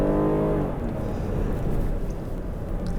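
A 2022 Kia Carnival engine under mid-throttle acceleration, a steady low drone with a brief rising tone at the start, heard from inside the cabin with no talk.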